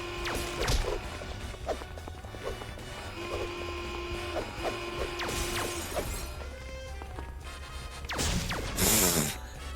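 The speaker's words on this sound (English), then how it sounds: "Oh, you can break the glass." Glass shattering in the Family Guy video game, with bursts of breaking and crashing among mechanical clicks, tones and game effects, a loud smash near the end.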